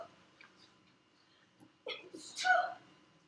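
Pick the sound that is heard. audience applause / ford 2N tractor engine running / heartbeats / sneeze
sneeze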